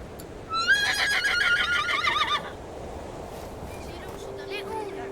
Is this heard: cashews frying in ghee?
no